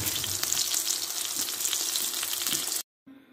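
Food fries in a pan on a home stovetop with a dense, continuous sizzle and faint crackles, steady and fairly close, cutting off abruptly near the end.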